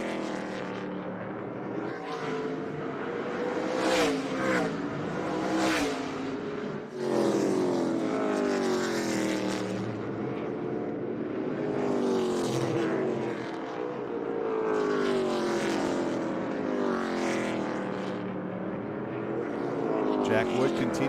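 ARCA Menards Series West stock cars roar through turns 3 and 4 at Colorado National Speedway, engines rising and falling in continuous overlapping passes as they spread over the track, with commentary talk running underneath.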